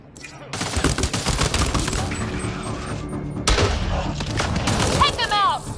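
Rapid gunfire from a Mass Effect: Andromeda firefight rattles almost continuously under voices, with heavy thumps and a sharp burst midway and a whining sweep near the end.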